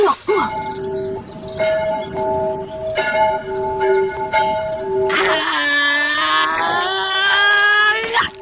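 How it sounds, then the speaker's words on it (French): In an animated film scene, an old bell rings out with sustained, harmonically rich tones; a brief quieter strike opens the clip, then a loud, full peal swells from about five seconds on. "Voilà la cloche qui sonne."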